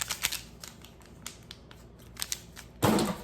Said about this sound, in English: I have scissors, so I don't have to fight with it